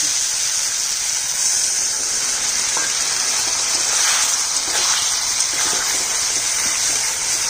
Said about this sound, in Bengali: মশলা কষানো হয়ে গেছে তেল আর মশলা আলাদা হয়ে গেছে জল দিয়ে দিচ্ছি